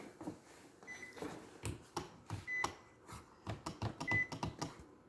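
A Nissan Rogue with broken door wiring sounds three short electronic warning beeps spaced about 1.5 seconds apart after the ignition is switched on, faint against quiet clicking and handling noises in the car.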